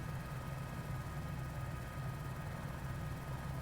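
An H125 helicopter in Microsoft Flight Simulator drones with a steady rotor and engine hum, its rotor speed wavering slightly, loud and continuous throughout.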